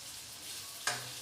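Potatoes fry in hot oil with browned garlic for a pointed gourd (parmal) curry, giving a steady close sizzle, then a sudden scrape of stirring near the end.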